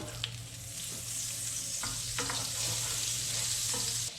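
Oil and butter sizzling in a hot frying pan, a steady close hiss with faint stirring clicks and crackles, no talking.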